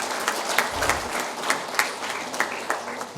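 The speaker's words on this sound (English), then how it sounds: "Please give a very warm clapping to Mr. Pradeep Shetty, Vice President, FHRI." An audience at a hospitality HR summit applauds a speaker with steady, dense clapping from many hands throughout, fairly loud and without talk.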